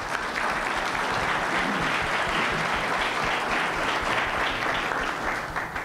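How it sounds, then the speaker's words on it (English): A conference audience at a leadership forum claps steadily throughout, a dense, even wash of applause that holds at constant strength with no voices rising above it. "So can we have a round of applause for these folks,"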